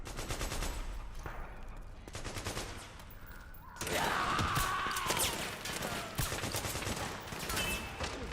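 Bursts of rapid automatic gunfire in the Metal Gear video game, dense volleys with a short lull midway before the shooting resumes louder and heavier, continuous and close.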